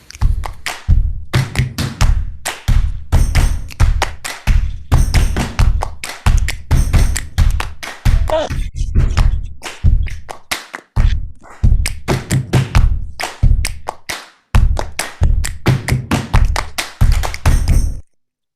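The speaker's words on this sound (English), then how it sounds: "that was me doing all the hand clapping in the background and the beatboxing" Hand clapping and beatboxing played as a background rhythm, loud, close and sharp percussive taps and thuds in a steady repeating beat, with brief pauses near the middle and no talk.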